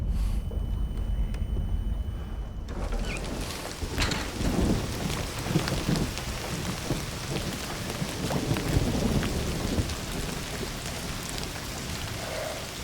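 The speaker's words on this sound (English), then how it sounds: "Don't you love rain?" Steady rain with rolling thunder in an Indiana Jones adventure game, a dense continuous downpour with low rumbles swelling in the middle, no voices over it.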